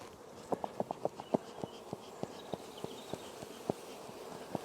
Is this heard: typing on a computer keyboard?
no